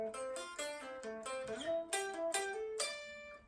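Electric guitar plays a section of the solo, a clear run of sustained single notes with slides and pull-offs, moderately loud and alone with no talk.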